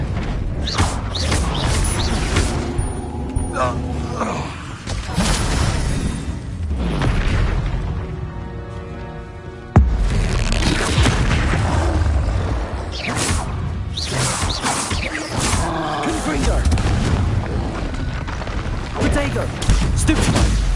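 Confringo fire-spell blasts during a hectic Hogwarts Legacy spell battle: loud, dense booms and crackling bursts pile up continuously with clanks and impacts, and a voice is heard in the background.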